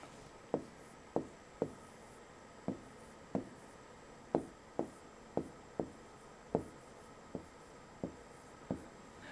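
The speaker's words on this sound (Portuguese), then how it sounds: "Vou escrever aqui." Chalk or marker tapping and stroking on a classroom board during a religious education lesson, producing a steady series of about fifteen sharp, evenly spaced strokes, close and clear with no talking.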